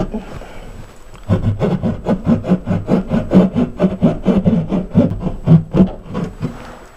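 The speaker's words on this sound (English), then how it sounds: "take your keyhole saw and you want to puncture the drywall" A keyhole saw punctures and cuts drywall during a large hole repair, loud close rasping strokes in a fast steady back-and-forth rhythm after a quiet first second.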